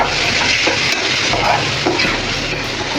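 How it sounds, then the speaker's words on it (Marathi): Chopped tomatoes sauté with onion and capsicum in a hot pan, a dense, loud sizzle with scraping stirring strokes running continuously and close up. "हे दोन टोमॅटो बारीक करून घेतले ते टाकूया व्यवस्थित आहे छान सगळं मिक्स होईपर्यंत मग होईपर्यंत चांगलं परतून घ्यायचं आहे"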